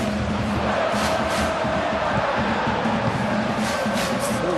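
Football stadium crowd at an Inter Milan vs AC Milan Serie A derby, a dense continuous roar of thousands of fans with swelling cheers and chants, loud and unbroken throughout.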